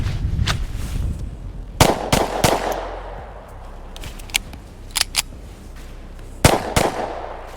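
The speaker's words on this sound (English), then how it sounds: "We're gonna go ahead and take 5 quick shots as quick as I can" A series of sharp handgun shots fired as quickly as possible, loud and close, coming in short clustered bursts with quiet gaps between them.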